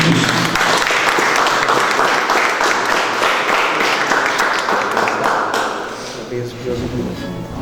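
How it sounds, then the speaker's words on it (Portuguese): Church congregation applauding together at the close of a prayer, a dense, steady wash of clapping that fills the space and tapers off near the end as a voice begins to speak. "A igreja pode aplaudir o Senhor Jesus."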